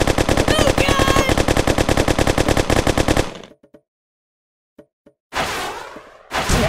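Rapid machine gun fire at a shooting range in the game Kick the Buddy, a loud continuous burst lasting about three seconds, then a few faint knocks and two short noisy bursts.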